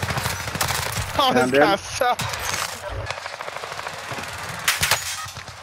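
Rapid automatic gunfire bursts in a Call of Duty battle on Rebirth Island, loud and close, mixed with game effects and scattered later shots, while players talk over it.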